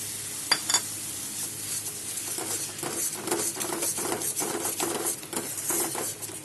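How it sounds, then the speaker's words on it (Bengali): Whisked sour curd poured into hot spiced oil while cooking Bengali doi potol: soft, close sizzling and crackling with scraping stir sounds, after a couple of faint clinks, no talk. "এখন আমি চেটিয়ে রাখা টক দইটা দিয়ে দেব।"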